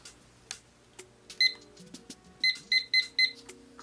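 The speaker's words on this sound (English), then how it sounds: "I'm gonna set my timer for another 15 minutes." A kitchen timer being set for another 15 minutes during a DIY resin bud vase project: a single short electronic beep, then four quick beeps in a row, with soft handling clicks between them.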